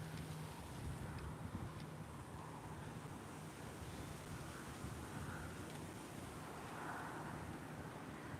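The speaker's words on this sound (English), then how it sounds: "That's just how windy it is." Strong wind roars steadily and buffets the microphone, with a surf-like rush and no voices.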